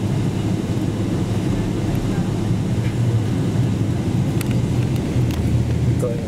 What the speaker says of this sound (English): It's very quick taxi to the runway.